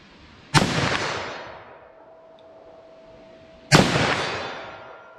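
Two loud, sharp handgun shots from 9mm+P and .357 Magnum rounds, each with a long ringing decay, spaced about three seconds apart with no talking.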